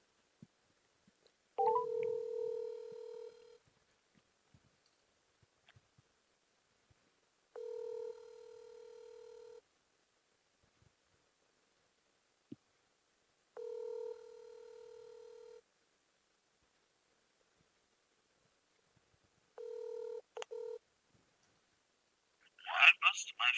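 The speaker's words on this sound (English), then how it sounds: "Call Battlestar." A phone placing a Discord voice call, sending out a repeated two-tone ringback signal in evenly spaced bursts separated by silence, ending with a brief louder noise.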